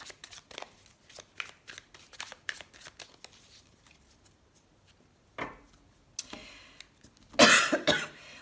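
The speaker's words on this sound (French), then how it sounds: "Alors on va couper le jeu, on va voir ce qui ressort." A tarot card deck is cut and shuffled: a run of crisp, close card flicks and riffles, then louder bursts of shuffling near the end, with no talking.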